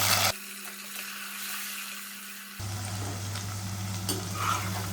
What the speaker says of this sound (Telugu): ఒక గుప్పుడు సోయాబీన్స్ గింజలు కడిగేసుకుని ఇవి కూడా వాడేసుకోవాలి తాలిం సరుకులు వేయాక ఇవి కూడా వేసేసుకుని వేపించుకోవాలి